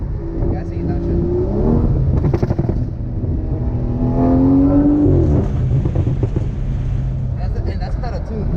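A BMW 340i with a B58 engine, muffler delete and forged carbon tips revs hard at a rev battle, loud rising and falling blips with excited voices talking over and between them.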